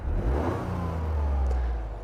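Toyota GR Yaris exhaust note, a steady low engine drone with harmonic layers rising slightly under throttle, close and continuous with no talk.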